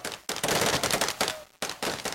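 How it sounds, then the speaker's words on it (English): Celebratory gunfire in Libya marking a dictator's death: dense, sustained bursts of automatic fire rattling continuously, broken by two brief gaps, loud and close, with no voices. "In October, Libyans greeted the death of the dictator with celebratory gunfire."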